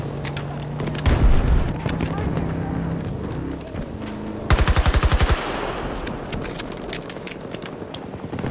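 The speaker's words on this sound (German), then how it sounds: "Granate unterwegs!" Battlefield 2042 combat, with a heavy grenade blast and then a tight burst of rapid automatic gunfire, followed by scattered distant shots and a radio voice calling out over the battlefield noise.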